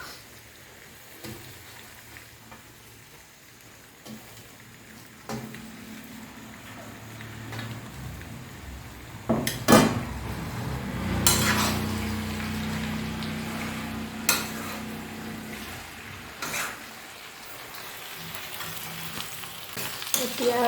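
Red ant eggs tipped into a pan of fried pork, setting off a steady close sizzle with bursts of louder crackling and scraping stirs partway through, no voices over it.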